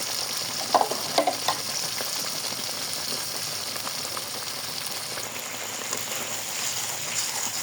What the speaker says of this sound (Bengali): এখন মশলাটা সুন্দর করে কষিয়ে নিব।